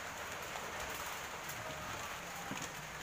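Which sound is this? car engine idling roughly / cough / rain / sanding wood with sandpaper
rain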